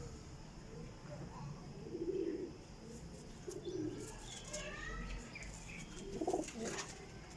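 Baby pigeons coo softly in a loft, low throaty murmurs rising in a few soft swells over steady background hiss, with faint chirps and a voice speaking in the distance.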